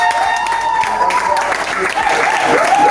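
Wedding guests at a ceremony in Tonla, Diégonéfla applaud the newlyweds with sustained, loud clapping and cheering, a voice over the sound system talking on top of it.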